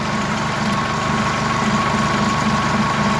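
A Massey Ferguson 2635 tractor runs steadily with its PTO spinning at full speed, a loud continuous engine drone with an even low vibrating hum close by, and no one speaking.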